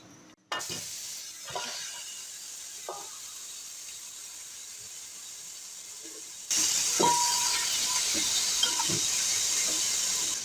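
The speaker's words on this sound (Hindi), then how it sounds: "अब इसमें मैं डाल रही हूँ ये मैरिनेट किया हुआ बीफ।" Marinated beef drops into a hot pressure cooker over a medium flame with a sudden loud sizzle that continues steadily, with a few soft clinks and stirring sounds over the hiss.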